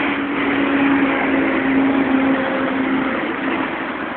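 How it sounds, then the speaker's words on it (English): A large truck rumbles past nearby, a steady broad engine roar holding level for several seconds with a faint tonal hum running through it. "Big sounds of the truck. Look at that truck going by."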